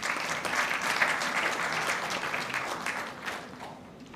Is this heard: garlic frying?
no